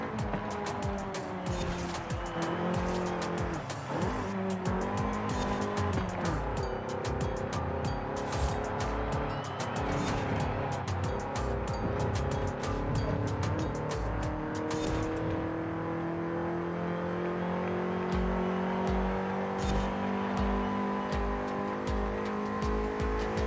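A race car laps a circuit in Forza Horizon 5, its engine note rising and falling through gear changes with steady revving that never lets up, and brief tire squeal mixed in across the run.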